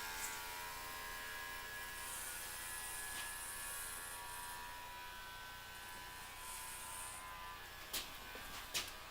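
Electric clippers shave a head with a continuous close buzzing drone that holds steady throughout, followed by a couple of brief clicks near the end.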